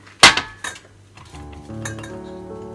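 Baking powder, cardamom powder and self-raising flour being mixed in a bowl for mawa cakes, with a sharp utensil clink against the bowl followed by softer scraping and clatter, close and without talk.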